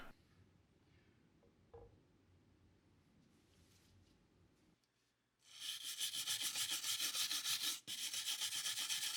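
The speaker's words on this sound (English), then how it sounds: "This part actually makes wet sanding a little more pleasant" Quiet handling gives way to steady, rhythmic rasping strokes of wet sanding on wood, close and fairly loud, with a brief pause near the end.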